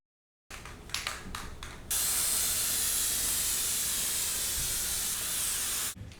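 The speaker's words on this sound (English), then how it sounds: "Spray both surfaces to ensure adhesion." A few short hissing spurts, then a long steady spray of adhesive from an aerosol can lasting several seconds, close and fairly loud, with no talking.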